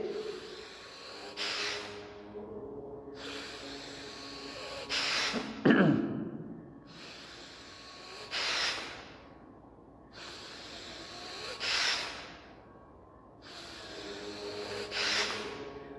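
Forceful bhastrika yoga breaths rushing in and out through the nose, in repeated bursts about every three seconds with quiet pauses between, close and clear.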